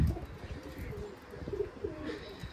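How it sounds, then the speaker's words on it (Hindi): Soft pigeon cooing and light bird calls near a mosque over a steady outdoor background, moderately faint with no talking. "बाकी जो कबूतर उड़े हुए हैं ऊपर जा रहे हैं"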